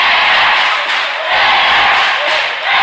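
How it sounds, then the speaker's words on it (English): A crowd in a packed gym roars and cheers wildly during a timeout at a Riverdale versus Mariner high school basketball game, a loud sustained wall of yelling that swells and dips slightly over a few seconds. "Listen to this crowd go wild."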